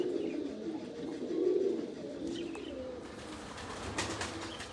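Soft, low pigeon coos repeat close by, a warbling call rising and falling, with faint chirps and light rustling in the background.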